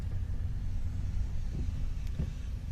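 Car driving through storm-damaged Rockport after Hurricane Harvey, a steady low road rumble and engine drone heard from inside the cabin, continuous and fairly loud, with no talk.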